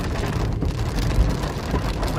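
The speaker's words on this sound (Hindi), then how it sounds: "बारिश आ गई है।" Rain drums on a car in a dense, steady hiss with no gaps, loud and close, with no talk over it.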